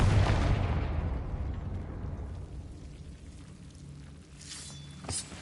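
The Confringo fire curse in Hogwarts Legacy bursts with a loud, booming explosion that fades into a long rumbling, crackling decay, followed by faint magical chimes.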